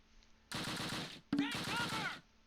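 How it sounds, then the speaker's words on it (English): Machine gun fire in the WWII tactics game Close Combat Panthers in the Fog: two loud rattling bursts, the first a little over half a second and the second slightly longer, separated by a short pause. "We hear MG fire."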